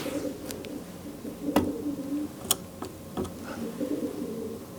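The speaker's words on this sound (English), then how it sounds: "Pigeons." Pigeons coo inside an abandoned mill, soft low repeated calls echoing in the space, joined by a few sharp knocks and clicks, fairly close and alone without talking.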